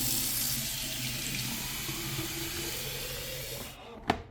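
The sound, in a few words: water filling the clean water tank of a Narwal S20 Pro vacuum mop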